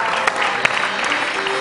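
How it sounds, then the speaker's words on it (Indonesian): Television studio audience breaking into brief, lively applause, many hands clapping densely at moderate volume with a couple of sharper claps standing out. "tepuk tangan loh"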